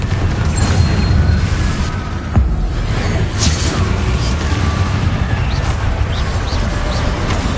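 Confringo blasting curse exploding in Hogwarts Legacy, a loud dense game soundscape with a deep boom and sharp crackle around two and a half seconds, amid sustained rumbling effects and whooshes.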